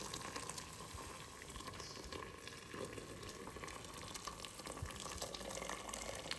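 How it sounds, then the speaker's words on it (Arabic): Hot water, about a litre and a half, poured into a pot while cooking Algerian couscous, giving a steady, continuous watery rush and bubbling hiss that runs evenly throughout with no talk over it. "نمرق بحوالي إطر ونص تاع ماء سخون."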